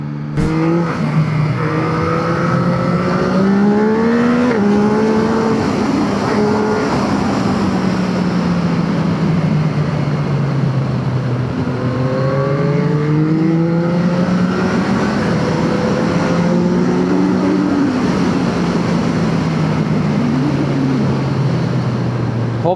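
A Yamaha MT-09 with Y-AMT on a road ride, engine loud and close, revving up through gears with audible pitch drops at each shift and steady wind roar, while people talk over it.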